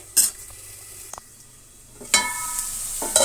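Vegetables for tamarind rice stir-fried in a pan give short bursts of sizzling and scraping, two clear bursts with a quiet gap between and no talk.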